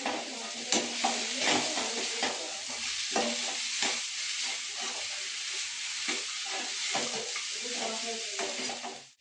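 Sugar-free carrot halwa made with ghee is stirred and roasted in a pan, a loud, continuous sizzle broken by rhythmic scraping strokes of the spoon, with no talking.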